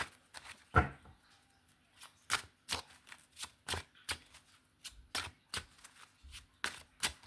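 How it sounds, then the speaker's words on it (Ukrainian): Tarot cards are shuffled in a quick series of crisp riffling snaps and taps, close and fairly quiet, repeating in an irregular rhythm. "поки я тасую карти"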